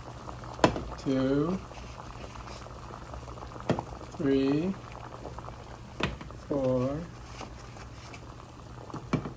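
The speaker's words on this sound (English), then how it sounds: "got the water boiling" Water boils in a pot with a steady bubbling, simmering noise throughout, with a voice counting out loud at intervals over it.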